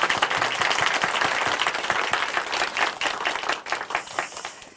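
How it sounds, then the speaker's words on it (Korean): A church congregation gives a round of applause during a testimony program, many hands clapping in a lively, uneven patter that swells and dips slightly before tapering toward the end. "자매님께 다시 한번 큰 박수 부탁드립니다."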